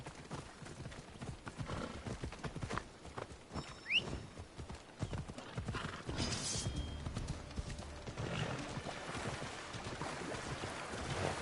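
Horse hooves clopping and splashing through shallow water in the Assassin's Creed Odyssey video game, a steady stream of footfalls and splashes under ambient wind with a brief whinny, fairly close throughout.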